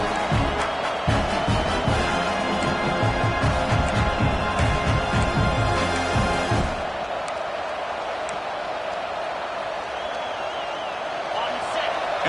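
Big stadium crowd at an LSU vs UT college football game roars loudly and steadily for the first seven seconds during a goal-line defensive stand, then settles to a lower sustained murmur, with an announcer talking over it.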